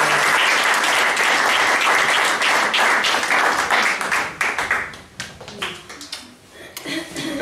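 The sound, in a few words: audience applause welcoming a speaker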